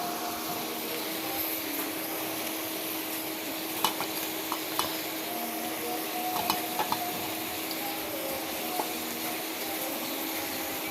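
Softened fish being stirred in a pan with a little added water for a village-style pipul leaf chorchori, giving a steady close sizzle with scattered soft scraping and clinks, no talking.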